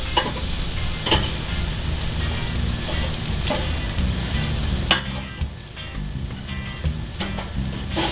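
Pork chops sizzle steadily on a hot grill, a dense continuous crackle with a few sharp clanks and scrapes as they are handled and flipped.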